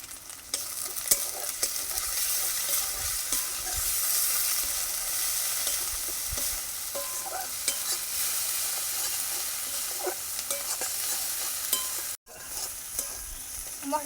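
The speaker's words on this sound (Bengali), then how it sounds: "মশলাটা একটু ভেজে নিয়ে দিয়ে দেবো।" Ground spices, salt, cumin and coriander, fry in a hot pan with a loud, continuous sizzle. Frequent spoon stirs and scrapes run throughout, with a brief cut near the end.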